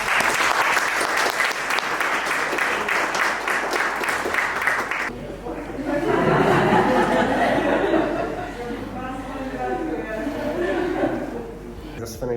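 A class clapping for a speaker: dense, steady applause for about five seconds, then it stops abruptly and relaxed chatter and murmuring voices take over.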